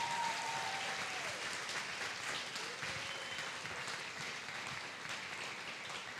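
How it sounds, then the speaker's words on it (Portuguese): A church congregation applauds, a steady, dense wash of clapping that holds at an even, fairly faint level throughout, with a thin ringing tone drifting in early on. "A igreja pode aplaudir ao Senhor,"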